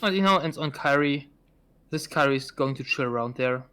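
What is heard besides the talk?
No everyday noises stand out.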